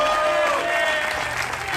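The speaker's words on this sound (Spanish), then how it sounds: "Fuerte aplauso." A crowd applauds in a dense, steady patter of clapping that continues without a break from start to end.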